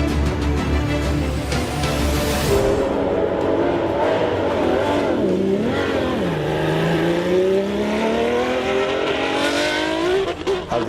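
A Minardi 191B Formula 1 car fitted with a Lamborghini engine runs loud and continuous, its harmonic engine note climbing, dipping and sweeping back up as the revs change, with no talk over it.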